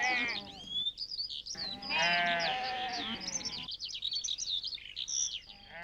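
Gaddi sheep bleat repeatedly in a high mountain pasture, several animals calling in overlapping bursts, fairly close, with birds chirping between the calls.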